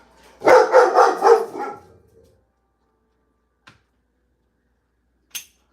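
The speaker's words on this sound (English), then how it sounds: "here comes the dogs" A short flurry of loud dog barks close by in a garage, several in quick succession, followed by quiet and a couple of faint clicks.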